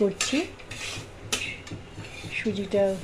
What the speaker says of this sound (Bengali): তো এখন সুজিটা তো ভাজা হচ্ছে